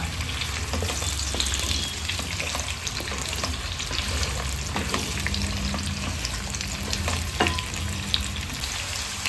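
Spiny gourd pieces sizzle steadily in hot oil, seasoned with salt and turmeric, a dense continuous frying hiss close up with faint occasional stirring clicks and no voices.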